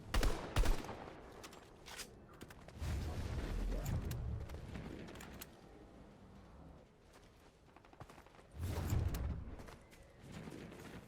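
Gunfire in the video game Fortnite with sniper shots, several sharp booming bursts at irregular intervals with quieter stretches of rumble and movement between them, no speech.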